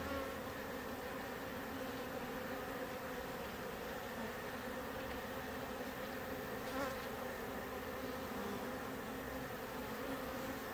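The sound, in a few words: honeybees buzzing around a hive in the woods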